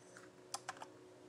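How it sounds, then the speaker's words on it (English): Typing a word on a computer keyboard: a few quick, faint key taps in a short burst, close by in a quiet room with no talking. "We're gonna type in the word albino."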